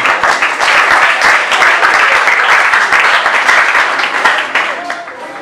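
Audience applause for an award winner at an open-day event of a wrestling association, a dense, loud burst of clapping from a crowd that holds steady for several seconds before tapering off.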